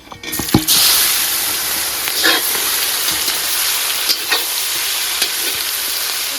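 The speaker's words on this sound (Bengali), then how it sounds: "দিয়ে দিচ্ছি গোটা গরম মশলা, তেজপাতা, শুকনো লঙ্কা। দিয়ে দিচ্ছি ঝিরিঝিরি করে পেঁয়াজ কুচি" Sliced onions, whole garam masala, bay leaves and dried chillies hit hot oil for chicken masala with a sudden loud sizzle, then keep frying in a strong, steady crackle with a few stirring clinks.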